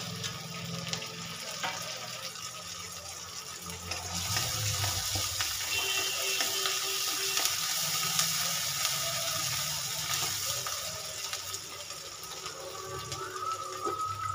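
Chopped tomato goes into browned onions frying in a pan for a Bengali fish-head curry, and a steady sizzle rises and continues at a moderate level, slightly louder after the addition.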